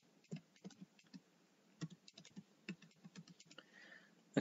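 A password is typed on a computer keyboard in quick, uneven bursts of close, soft key clicks with brief pauses between runs, and no one speaks.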